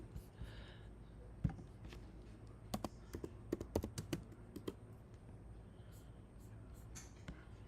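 Light typing on a computer keyboard, a scattered run of quiet clicks and taps in a few short bursts against a soft background.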